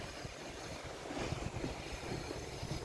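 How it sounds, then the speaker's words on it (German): A roaring sea at Peñíscola churns with a steady, dense wash of surf and wind rumble, loud and unbroken for a few seconds with no voices. "Das tosende Meer."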